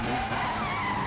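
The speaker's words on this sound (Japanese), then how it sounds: "ドリフトくらいは年式の古い車でも朝飯前です" An older car drifts in a spy-film chase through city streets, tires skidding and squealing continuously over a steady engine roar, loud and close throughout.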